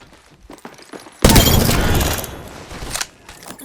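Rapid gunfire bursts in Apex Legends, loud and dense after a quieter opening, a sustained volley lasting about two seconds with a final sharp shot near the end.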